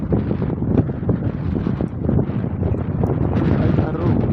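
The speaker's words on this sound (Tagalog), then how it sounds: "Ayan na guys, ang hangin." Strong wind buffets the microphone in steady rumbling gusts that rise and fall throughout, with a person talking faintly underneath.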